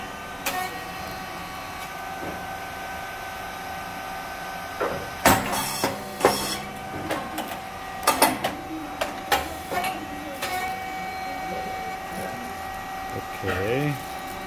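A SYP6502 rice cake machine fitted with a customized 36 mm feeding plate and titanium-coated molds hums steadily, broken by a run of sharp thuds and bursts in the middle, with brief talk near the end.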